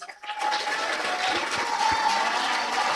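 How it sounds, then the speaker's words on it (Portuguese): A crowd breaks into steady applause, many hands clapping together for a few seconds. "dá uma linda salva de palmas para ele"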